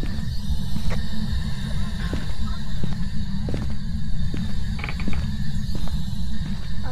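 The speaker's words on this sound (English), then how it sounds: "I heard creaking." Repeated creaks and mechanical groans break through a steady low rumble in a dark house during a late-night ghost hunt, each one short and moderately close, with no voices in between.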